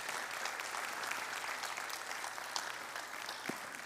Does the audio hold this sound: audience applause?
yes